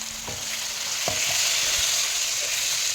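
Washed chicken for an easy chicken fry sizzling steadily in a hot pan, a loud continuous hiss with a few soft stirring knocks and clinks, close up.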